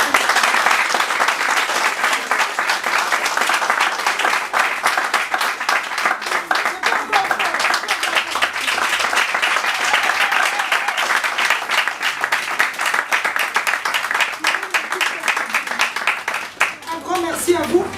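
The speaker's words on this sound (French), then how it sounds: "Est-ce qu'on peut applaudir?" An audience at a book presentation in Kinshasa breaks into sustained, loud applause, dense clapping holding steady before tapering off near the end, with a voice speaking over it.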